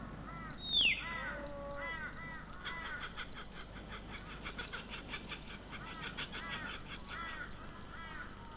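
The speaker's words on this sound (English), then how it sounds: "The first bird to call at dawn, the laughing kookaburra, is known as the bushman's alarm clock." Laughing kookaburras calling at dawn in the Australian bush, a rising chorus of rapid repeated cackling notes in overlapping bursts, fairly close and continuous, over a low ambient hum.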